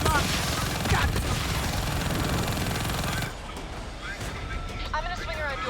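Dense, continuous rattling gunfire and explosions in the video game Call of Duty Black Ops 3 fill the first half loudly, then drop to a lower rumble with radio chatter and a voice talking over it.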